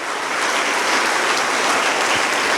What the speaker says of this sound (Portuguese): Vamos aplaudir o Senhor pela generosidade da irmã Iracema.